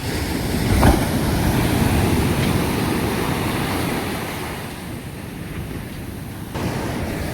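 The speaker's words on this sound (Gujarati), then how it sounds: "તો આ છે અમારા ગામનો દરિયો." Sea waves break and wash continuously on a village beach, a loud, steady roar of surf mixed with wind buffeting the microphone, with no talk.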